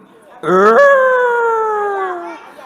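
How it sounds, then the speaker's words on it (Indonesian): A single wolf howl sound effect set at night, loud and close, starting with a brief yelping onset and then settling into a steady, sustained wail that slowly falls in pitch and fades after about two seconds. "Suara serigala di tengah malam."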